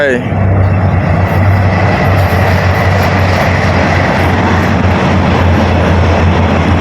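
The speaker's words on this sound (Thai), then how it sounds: "โอ้นู่นรถไฟครับ รถไฟรถไฟ" A loud, continuous rumble of a train passing close by, steady throughout, with a voice calling out over it.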